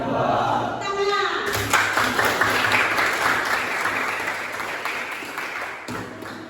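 A classroom of students claps together after a short spoken cue, a burst of steady group applause that continues for several seconds.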